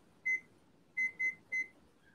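An Instant Pot gives four short, clear electronic beeps as its cooking timer is set: one beep, a pause, then three quick beeps in a row, close and isolated with no talking.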